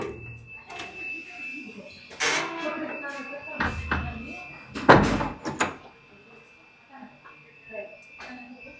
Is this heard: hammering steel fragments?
no